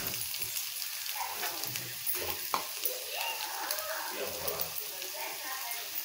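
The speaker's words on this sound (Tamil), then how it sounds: "முட்டையை கலர் வேணாம், கொஞ்சம் நேரம் வேகட்டும்." Egg cooking in a pan for egg macaroni pasta, a soft, steady sizzle with faint crackles and stirring noises running through the whole clip at low volume.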